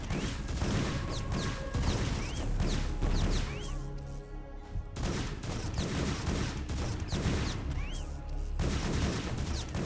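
StarCraft: Brood War units attack a pylon in a dense barrage of rapid game weapon fire and impacts, continuous and loud, briefly thinning midway before the volley resumes.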